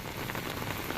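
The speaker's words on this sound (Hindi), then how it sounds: "जोरदार बारिश साउथ दिल्ली में हुई।" Heavy rain pours down steadily in South Delhi during a windstorm, a dense, even hiss of drops on surfaces with no voices.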